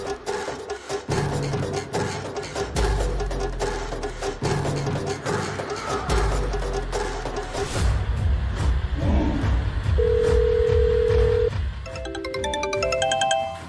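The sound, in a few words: telephone ringing with an incoming call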